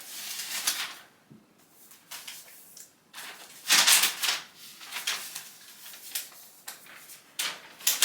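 Plastic wrap and packaging being pulled off a new moonlight gray MacBook laptop, a series of crinkly rustles and tearing bursts with short pauses between them, close and fairly quiet.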